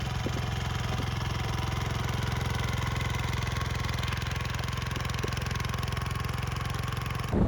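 A Sharp Garuda mini weeder runs its small engine in a field with a steady, continuous mechanical chug, close and loud, holding an even pitch without pauses throughout.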